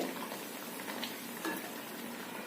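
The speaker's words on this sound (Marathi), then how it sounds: "मस्त अशी उकळी आली" Spinach curry gravy bubbles at a boil in a pan, a dense, even, low-level simmering and sizzling texture with a couple of soft clicks, and no voices.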